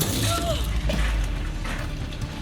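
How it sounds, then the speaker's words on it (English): Glass shatters and crashes amid a loud clattering impact, with debris rattling briefly afterward. "hail the size of golf balls crashing through her window"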